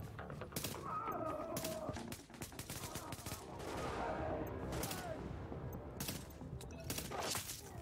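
Rapid bursts of gunfire from the co-op shooter Tom Clancy's The Division, repeated volleys of shots crackling densely and loudly throughout, with brief pauses between bursts.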